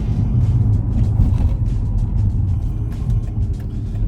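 A 2007 Mercedes SL65 AMG R230 with a 6.0-litre twin-turbo V12 drives along, its engine a deep, steady low rumble with road noise, close and loud throughout, no voices.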